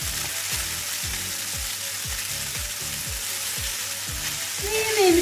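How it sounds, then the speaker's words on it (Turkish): Spaghetti with oyster mushrooms stirred in a pan over low heat, a steady close hiss of frying cut by a regular series of scraping strokes, about ten evenly spaced, with a brief clink at the end. "şöyle hafif karıştırıyorum"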